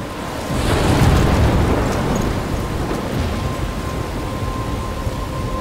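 A thunderstorm in the video game Life is Strange: a deep rolling thunder rumble swells early then eases into steady rain hiss, continuous and enveloping with no voices.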